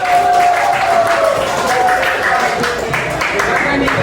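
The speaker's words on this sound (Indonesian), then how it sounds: "Aplaus dulu." Applause and clapping from a class of junior high students in a school classroom, a dense, steady patter of many hands filling the room, with voices chattering underneath throughout.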